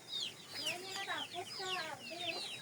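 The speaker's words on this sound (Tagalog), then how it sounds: "Ang sabong ni Guroy" Several chickens in the countryside cluck and squawk at once, a busy chorus of overlapping calls close by, fairly faint overall and continuous throughout.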